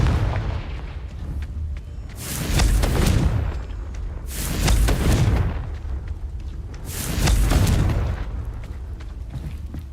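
Confringo blasting-spell explosions in Hogwarts Legacy, three heavy booming blasts spaced about two seconds apart, each swelling and rolling off over a low rumbling background.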